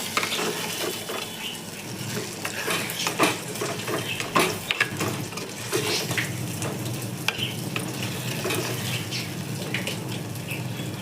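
Marinated mutton stirred in a pot gives scraping spoon strokes and light metallic clinks over a soft, continuous sizzle, with no voices.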